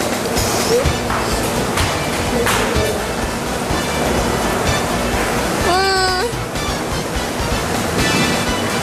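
Sea waves wash steadily around a boat out on the ocean, a continuous broadband surge with some wind, and a brief whistling squeal rising partway through.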